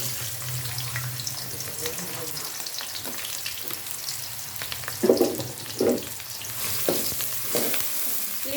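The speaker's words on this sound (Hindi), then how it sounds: "ऑयल गर्म हो चुका है, अभी हम 2 से 3 अदद प्याज डालेंगे इसमें।" Onions hiss and sizzle in hot oil in a pan, a steady frying crackle with a few louder bursts and stirring clatter partway through.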